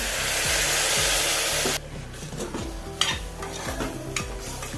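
A vegetable curry with ground coconut is stirred in a pan: a loud hissing burst at first, then rhythmic scraping strokes of a spoon against the metal, with soft music behind.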